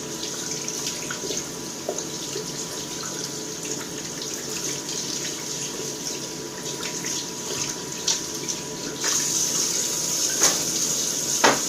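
Tap water runs steadily into a sink while shaving lather is rinsed off a face, a continuous close hiss that grows slightly louder and brighter toward the end, with no talking.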